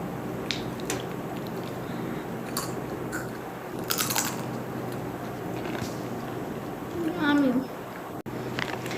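Pizza-flavoured Doritos chips crunch and get chewed during a snack taste test, close bites and munching, with a voice briefly in the background.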